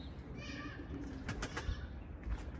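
Pigeons in a loft take off, their wings giving several quick bursts of flapping near the middle and end, over a steady background murmur with faint cooing.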